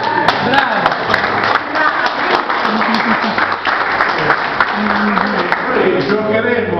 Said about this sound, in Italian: Anzi, un applauso.